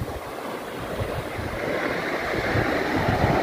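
Sea waves at Banshkhali beach near Chattogram give a steady, full roar of surf mixed with wind noise, continuous and close, with no voices.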